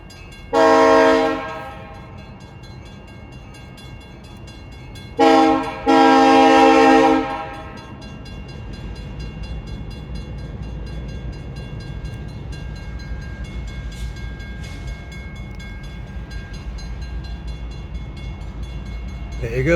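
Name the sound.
Norfolk Southern freight train passing a railroad crossing, horn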